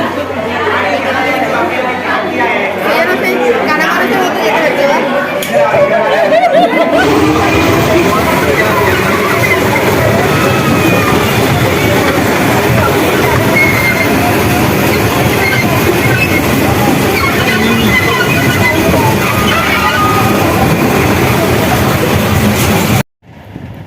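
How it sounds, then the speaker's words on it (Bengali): An amusement park ride train at Nicco Park rumbles steadily along its track with clattering wheels and occasional squeals, while riders chatter loudly close by throughout. "এখন আমরা সবাই ট্রেনে বসলাম ট্রেন চড়ছি"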